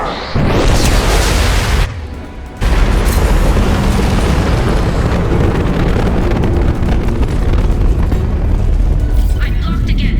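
A loud high-impact weapon explosion in Mass Effect 2 booms after a short break, then a dense, sustained roar of blast and debris carries on without letup.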